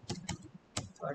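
A few quick clicks on a computer keyboard, soft and close, with a voice faintly heard alongside.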